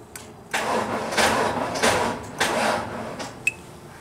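Vehicle engine cranking during a jump-start test with a NOCO GB70 booster on a Genie lift, a few rhythmic surges of starter churning that do not catch, fairly close and loud.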